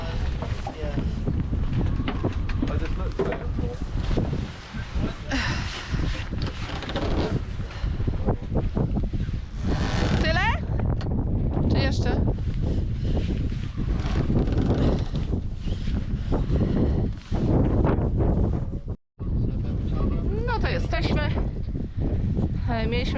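Strong wind buffets the microphone in a constant roaring rush on a boat near a ferry at Bembridge, with voices talking over it and a brief drop-out near the end.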